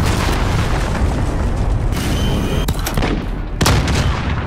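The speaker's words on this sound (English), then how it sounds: "Enemy cruise missile!" An enemy cruise missile explosion in a video game booms loud and heavy over a dense rumble of battle, followed by a couple of sharp blasts near the end.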